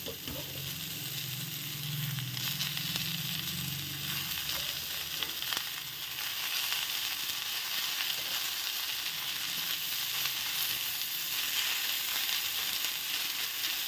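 Finely chopped spinach fries in a pan with potatoes, giving a continuous crackling sizzle with occasional stirring scrapes. It is loudest early on and then settles into a steady, moderate hiss.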